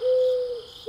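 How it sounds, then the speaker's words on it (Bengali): A dove nesting under a tin roof gives one smooth, sustained coo that holds steady before fading, heard close and alone against quiet surroundings. "টিনের চালের তলায় বাসা বেঁধে থাকা ঘুঘু পাখির ডাক।"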